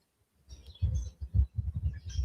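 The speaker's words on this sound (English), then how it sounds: "Here's some bird sounds in the back." Birds chirping in the background outdoors, a few short, bright calls scattered over low rumbling and soft movement noise, faint and somewhat distant.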